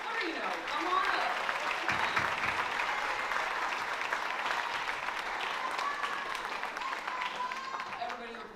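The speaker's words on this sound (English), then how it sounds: "So please clap it up for Rebecca Armstrong, Isabella Garcia, and Hans Carino." An audience applauds at a high school awards night, producing a sustained wash of clapping from a large crowd that continues unbroken, with faint voices and cheers mixed in.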